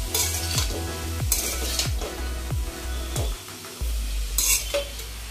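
Spinach fries in a pan with potato, eggplant and bori, giving a loud, steady sizzle close up, with a few rhythmic stirring scrapes of a utensil against the pan and no talking.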